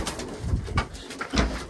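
A pigeon coos in a few low, muffled, throaty pulses, close by with a rough background hum, in a shed behind a small garden in Canada.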